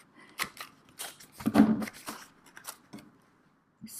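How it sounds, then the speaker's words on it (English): A corner rounder punch chomps through paper card corners, a handful of sharp, close snips and clicks with rustling paper handling between them, then a brief quiet pause. "And then you can take your corner rounder and round your corners."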